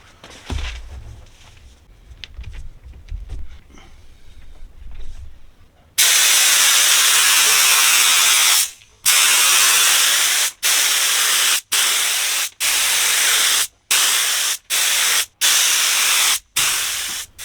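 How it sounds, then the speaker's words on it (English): Aerosol spray adhesive sprayed onto the back of seat fabric for a Lotus Elise seat, loud hissing bursts, a long spray followed by about nine short sharp spurts, after a few seconds of quiet handling noises. "So I've sprayed one coat of glue onto the fabric."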